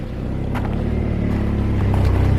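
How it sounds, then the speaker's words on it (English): A cold Saab 9000 engine idles roughly with a possible exhaust leak, a loud, close, low rumbling drone with uneven pulsing and no voices over it. "yeah, see how it struggles to idle right now? And this is normal when the engine is cold"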